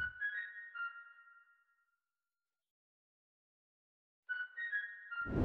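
Short melodic pattern from a Kontakt preset in the Bay Bank library by Teletone Audio, played dry with no effects: a bright, tonal phrase that fades into a long silence before the pattern starts again.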